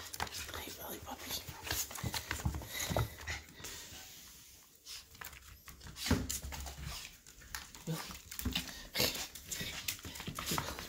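A Yorkie dog greets its owner arriving home, with excited whimpers, pants and snuffly breaths mixed with bursts of close, lively activity while a person talks to it throughout.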